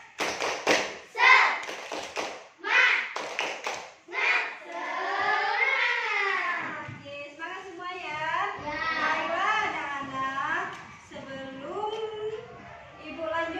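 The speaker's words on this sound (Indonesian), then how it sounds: "Tepuk semangat." A class of young children at an Indonesian Islamic primary school does a rhythmic spirit clap, quick bursts of loud patterned claps first, then the children chant together in unison.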